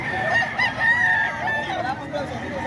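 Milsim Black gamecock roosters crow in a drawn-out overlapping chorus at a Bocaue poultry gathering, loud and close, with background chatter.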